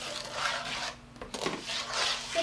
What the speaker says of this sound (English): Just gonna give that a quick little stir like so.